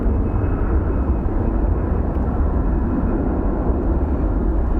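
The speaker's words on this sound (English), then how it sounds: "There goes the CRJ." CRJ regional jet departing Phoenix Sky Harbor, a steady, moderately loud engine rumble and whoosh holding evenly throughout, with no talk.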